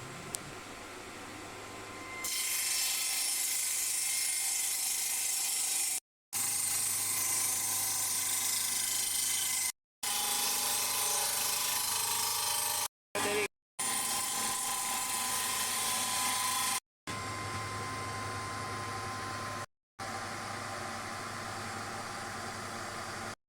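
A circular saw cuts a tab into a wooden window frame in several long passes, each a loud, sustained high whine broken by brief sudden stops, heard up close against a faint hum.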